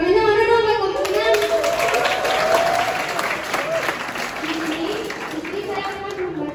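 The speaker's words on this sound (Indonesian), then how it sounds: "tepuk tangannya mana dong" Audience applauding during a student soft-skills class event, loud continuous clapping from a crowd with cheers and children's voices mixed in, a steady wash that carries on for several seconds.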